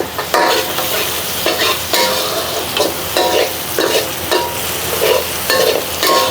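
Food being stir-fried in a pan, a loud sizzle with repeated scraping strokes of the spatula in a steady rhythm, close and unaccompanied by talk.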